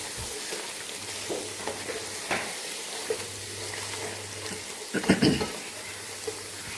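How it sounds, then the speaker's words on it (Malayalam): Garlic and ginger paste frying in oil for chicken biryani, giving a steady wash of sizzle with a few stirring scrapes and a louder burst near the end. "വെള്ളുള്ളി, ഇത് ഇഞ്ചി പേസ്റ്റ് അല്ലേ? വെള്ളുള്ളി ആദ്യം ഇട്ടാൽ നല്ലോണം ഇറക്കണം"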